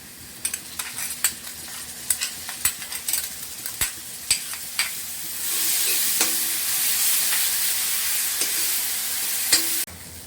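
Mustard paste frying in a pan with water, a steady close sizzle swelling louder midway, with sharp scrapes and clinks of a spoon stirring against the pan throughout.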